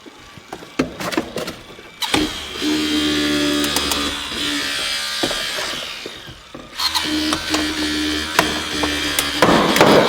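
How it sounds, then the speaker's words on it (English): A hydraulic rescue spreader works at the hinge gap of a car door, giving a steady mechanical whine and groan under load, broken by clanks, creaks and metallic knocks close by. "if we lay our spreader in the proper angle, we can open that gap up so we can get a good bite on the hinges"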